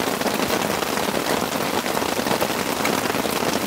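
Steady rain pours down at a campsite beside a campfire, a dense, even hiss of drops hitting surfaces close by with no letup, heavy and constant throughout.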